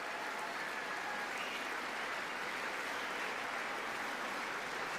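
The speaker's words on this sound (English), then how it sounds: "An hour of applauding." In-game crowd clapping in Old School RuneScape during a boss fight, a steady, even, fairly faint wash of applause that runs continuously without pause or talk.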